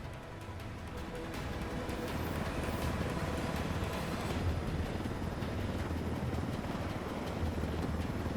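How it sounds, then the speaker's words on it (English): Military helicopters in the video game Ghost Recon Wildlands, set in Bolivia, make a steady, loud rotor drone that holds constant for the full stretch, with no voices. "Let's take these choppers out."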